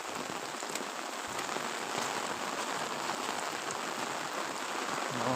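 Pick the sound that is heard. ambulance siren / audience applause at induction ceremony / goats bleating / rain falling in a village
rain falling in a village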